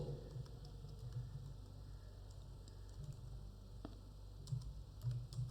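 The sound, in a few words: typing on computer keyboard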